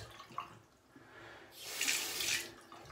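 Water runs from a tap while shaving goo is rinsed off a head, a faint hiss that swells into a louder splashing rush for about a second before easing off.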